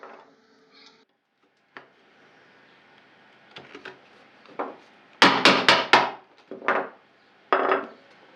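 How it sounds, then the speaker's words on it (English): Hand chisel and mallet chopping waste between dovetails in wood, a series of sharp percussive knocks, sparse at first then a rapid cluster of four or five loud blows, followed by a few more spaced strikes. "So here I'm busy chopping out the waste pieces between each dovetails."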